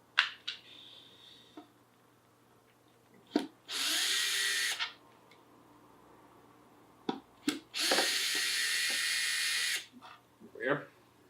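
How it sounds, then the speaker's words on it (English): Power sander working a guitar body flat ahead of clear coat, in two sustained loud bursts of about one and two seconds, separated by short taps and handling clicks. "now it's time to get this flat sanded, or at least as close to flat sanded in preparation for clear coat"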